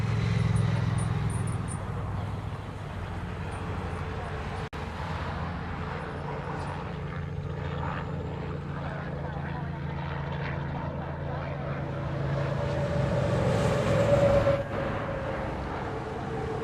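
Qantas airliner arriving at Honolulu airport, a broad distant jet roar rising and swelling under gusty wind noise, with a person talking over it now and then.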